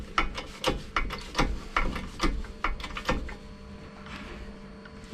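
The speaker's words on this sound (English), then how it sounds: "you want to compress it all the way up until you can get the second retaining ring" A shock compressor squeezes the spring of a Yamaha T700 shock in a rapid series of close, dry ratcheting clicks and creaks that slow and thin out toward the end.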